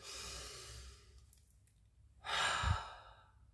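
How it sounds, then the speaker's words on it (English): Deep breathing during a relaxation exercise: a long exhale fades out, then after a quiet pause a strong, close inhale-exhale swells, loud and alone with no talk. "Breathe in and out."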